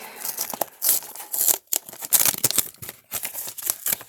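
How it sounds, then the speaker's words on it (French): Paper wrapping on a box of chocolates from an advent calendar is torn open in repeated quick rips and crinkles, close and sharp, with brief pauses between pulls. "je crois que je vais être obligée de déchirer l'emballage"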